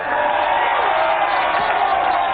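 Audience at a staged show in a Hindi-dubbed film applauds and cheers loudly, a dense, steady wash of clapping and crowd noise filling the whole stretch.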